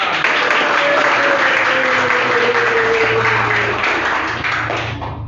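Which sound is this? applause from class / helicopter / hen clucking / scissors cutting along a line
applause from class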